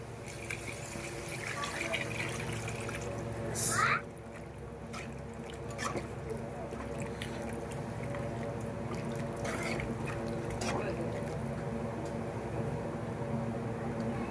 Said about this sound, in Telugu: నెక్స్ట్ వాటర్ వేసేసుకుందాం